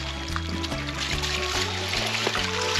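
Creek water trickling and gurgling around acorns left to leach on an off-grid homestead, a steady close babble with a low rhythmic hum running underneath.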